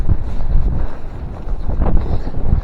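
A strong, gusty wind roars across the microphone at Claerwen Reservoir in open upland country. The low rumble surges and eases in buffeting waves, and nothing else is heard.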